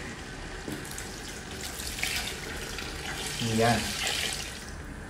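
Water run into a pot of lugaw, rice porridge with tofu and pork, a steady close splashing flow that swells briefly louder near the end, with a short spoken word over it.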